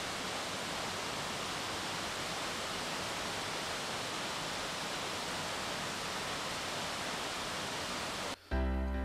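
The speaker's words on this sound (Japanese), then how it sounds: "高さが36メーター幅が22メーター ということで、言われているのは日本初のハネムーンをした坂本龍馬さんもこの滝を見たんじゃないかと言われております。" A waterfall about 36 metres high and 22 metres wide near Kirishima Shrine in Kagoshima roars as a steady, dense rush of falling water, close and even, cutting off abruptly just before the end.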